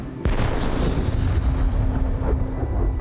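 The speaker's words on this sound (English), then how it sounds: "It's time to try the culverin against a target, just 10 feet square, but the thickness of a ship's hull." An English culverin, a muzzle-loading ship's cannon with its barrel level, fires once at a target 150 meters away. It gives a single sharp, loud boom followed by a long rolling rumble outdoors.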